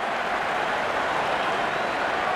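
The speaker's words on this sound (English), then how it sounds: "Wonderful 50 and the crowd applauds." Crowd applauding in the cricket video game Real Cricket 22 after a batsman reaches fifty: a steady, dense wash of clapping and cheering noise that holds at an even level for a couple of seconds, with no voices on top.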